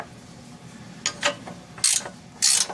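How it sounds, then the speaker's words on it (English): A Gear Wrench brand ratcheting wrench clicking in short, sharp bursts, close and loud, with quiet pauses between the ratchet strokes. "these gear wrenches, these are the brand name is Gear Wrench"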